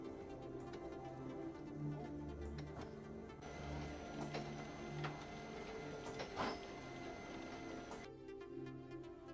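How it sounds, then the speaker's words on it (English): A Printmaster QM 46 sheet-fed printing press transports a sheet through to the delivery, a steady mechanical whir and rumble with rhythmic ratcheting clicks and a brief clack partway through, constant and fairly close. "Press the button for double sheet positioning run twice again, and the sheet will be transported to the delivery."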